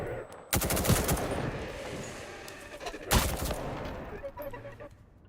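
Bursts of automatic gunfire in the Active Matter game, two loud volleys roughly three seconds apart with rapid rattling shots and a dense noisy tail between them.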